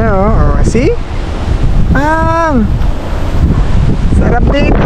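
Strong wind near windmills at a campsite in Bangui, Ilocos Norte, roars steadily and buffets the microphone while someone talks over it.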